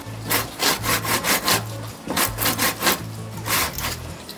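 A long handsaw cuts through wood while an abandoned building's exterior wall is being stripped, giving about ten steady, rhythmic rasping strokes, close and fairly loud, with no talking.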